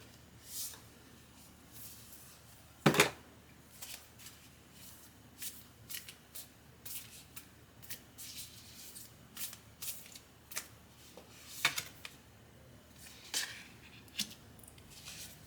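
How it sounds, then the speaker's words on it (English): Starseed Oracle tarot cards are shuffled by hand in a quiet room, giving soft, repeated riffling and flicking bursts with two sharper snaps standing out, close and fairly faint, with no talking. "Next cards they want me to pull are the Starseed Oracle cards."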